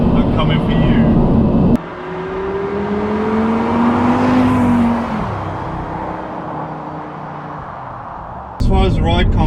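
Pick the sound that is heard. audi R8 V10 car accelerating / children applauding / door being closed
audi R8 V10 car accelerating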